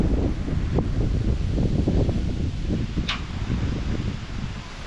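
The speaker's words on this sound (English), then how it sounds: "That sand is just blowing like crazy, and is sandblasting the corn here." Strong wind blows sand across a cornfield, a loud, continuous roar with gusty buffeting on the microphone and a brief hiss of grit partway through.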